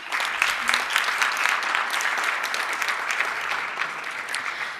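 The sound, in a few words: audience applause at award ceremony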